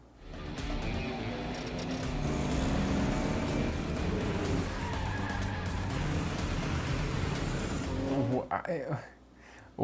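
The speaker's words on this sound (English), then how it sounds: "That is a convoy." A convoy of trucks and a car rumbles through a scene in the Tamil action film Master, a sustained roar of engines and tyres with occasional squeals. Voices are heard over it before the sound cuts away.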